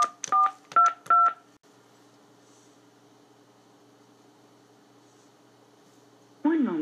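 Telephone keypad touch-tones entering a number during an automated Verizon repair call, four quick, loud beeps in a row followed by a long quiet line hum, then a voice comes in at the end.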